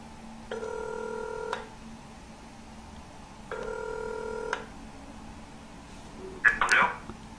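A telephone call rings after dialing, with two long ringback tones repeated at an even interval, then a brief click as the line is picked up, faint against a quiet hum.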